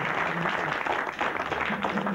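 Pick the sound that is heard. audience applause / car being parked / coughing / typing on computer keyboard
audience applause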